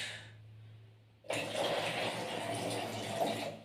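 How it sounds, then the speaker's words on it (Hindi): Water pours from a 250 ml glass beaker in a steady, close gush that starts abruptly after a short quiet stretch and runs without a break to the end. "अभी मैं इसमें पानी ज्यादा है, इसको थोड़ा कम कर लेता हूँ"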